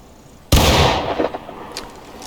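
A single sharp rifle shot fired at a 40-yard target during basic rifle training cracks loud and close, followed by a decaying echo and a few faint reflections.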